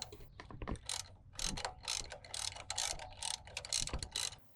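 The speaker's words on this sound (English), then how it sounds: "we can use a 17mm socket to secure the bolt on the cam locking tool" Ratchet with a 17mm socket tightening the bolt on a cam locking tool during a Subaru WRX STI timing belt job, a quick series of close, crisp clicking strokes in short bursts, no talking.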